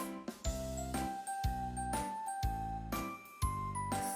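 Baby rattles are shaken in a steady rhythm of roughly one shake per second, each burst a bright jingling clatter close to the listener, with no talking.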